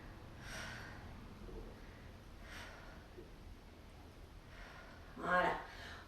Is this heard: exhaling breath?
yes